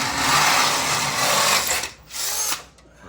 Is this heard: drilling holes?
yes